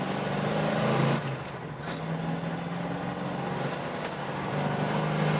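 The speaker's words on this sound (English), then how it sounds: "Driving a 71 Cuda here" A 1971 Plymouth Cuda being driven, heard from inside as a steady, close engine drone that holds at a constant level for the whole stretch, with a brief dip partway through.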